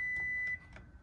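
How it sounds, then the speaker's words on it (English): A 2021 Toyota Tundra's IGLA security system gives a single steady electronic beep, clear and close, cutting off halfway through with faint background noise after. "You will get a security light flash twice with 2 beeps."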